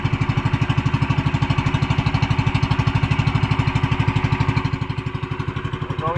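A small fishing boat's engine with a carburetor problem runs out at sea, its loud, rapid regular chugging steady and close with no voices over it.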